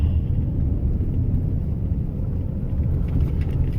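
City car traffic on a Manhattan street heading toward the Lincoln Tunnel, a steady low rumble of engines and tires that stays loud and unbroken throughout, with no talk over it.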